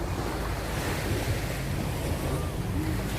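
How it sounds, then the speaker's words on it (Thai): Sea waves wash continuously onto the beach at Jomtien, a loud steady surf roar mixed with strong wind buffeting the microphone. "เสียงคลื่นทะเลความสุขสุดๆค่ะคุณขา"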